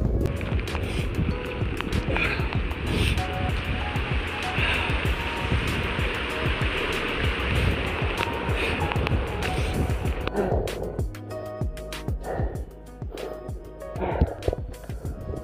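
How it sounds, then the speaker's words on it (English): Strong wind roars steadily during an outdoor winter run in freezing rain, a loud broadband rush with gusts and buffeting that eases and becomes patchier near the end. "Wind keeps blowing hard."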